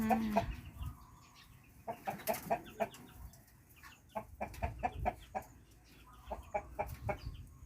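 Chickens and fighting roosters cluck on a Thai farm beside a garden, with bursts of clucking close by and repeated in short clusters, separated by quieter stretches of background noise.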